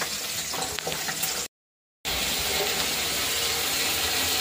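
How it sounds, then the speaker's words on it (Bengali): Pabda fish frying in a pan, a steady close sizzle that cuts out to silence for about half a second, then resumes just as dense and loud. "চলো মাছটা ভেজে নিই।"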